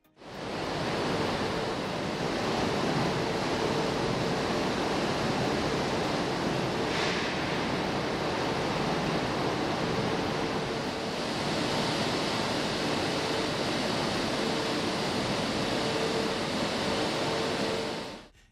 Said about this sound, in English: Potatoes are washed clean using an automated washing system.